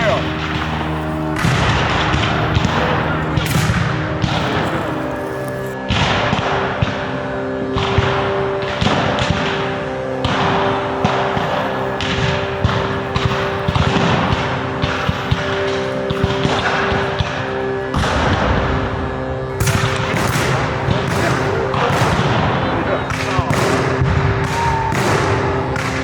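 Muskets at a Civil War reenactment firing in a loose, slow series of sharp cracks and thuds spread over time, some near and some distant, with shouted commands between shots.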